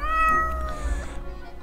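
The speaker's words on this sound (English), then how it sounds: "Meow, the cat notes while casually twirling around the spot, purring at the table." A cat meows once in a drawn-out, wavering cry, close and clear, fading into quiet at the end, in the video game Death and Taxes.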